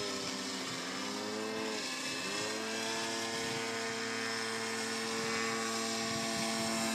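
A Trex 600 nitro RC helicopter runs with its rotor spinning, producing a loud, sustained buzzing engine whine whose pitch dips and swoops early on, then settles into a steady drone.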